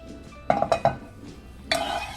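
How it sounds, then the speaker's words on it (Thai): Coconut milk with sweetener and salt stirred in a pot over medium-low heat, a few quick clinks and scrapes of a utensil against the pot, then a brief louder scrape near the end. "คนนะคะให้เขาละลายนะคะ ให้สารให้ความหวานแล้วก็เกลือค่ะ ละลายเข้ากับกะทิ"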